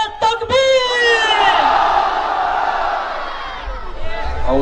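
A rally crowd at a public political meeting in Gujarat roars back a loud, sustained collective chant in answer to the Takbir slogan call, voices swelling together and fading slightly before rising again.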